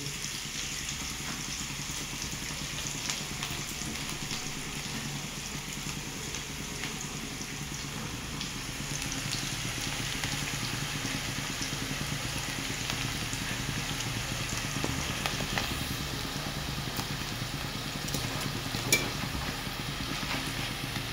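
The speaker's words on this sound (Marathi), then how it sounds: "आणि कांदा चांगला लाल होऊन द्या." Onions frying in a pan until browned for cabbage fried rice, giving a steady, moderately loud sizzle that continues alone with no talking.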